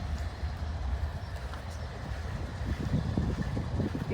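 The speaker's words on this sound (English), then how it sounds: "That's the SC40 on the welded rail train." CSX welded rail train pulled by locomotives rolling past, including an SC40 unit, giving a dense, steady rumble with clattering wheels and wind noise, loud and close throughout.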